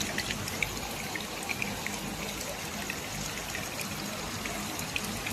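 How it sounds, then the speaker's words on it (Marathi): A small stream in rainy Konkan, swollen with rainwater, rushes past in a constant loud gush. Steady close water roar fills the whole stretch, with no talking. "असं नाल्याला पण पाणी आलं बघा सुसाट"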